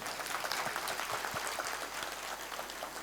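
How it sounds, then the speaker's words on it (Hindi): Audience applause for the children at a school annual day event, a dense, sustained roar of many hands clapping at once, steady and fairly distant. "उन बच्चों के लिए जोरदार तालियां आप बताएं।"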